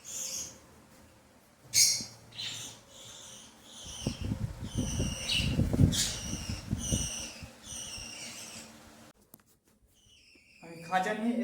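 Birds chirp in a bird room, with repeated bright, close calls in short bursts and a shriller call near the end, while a person moves about and makes low handling noises in the middle.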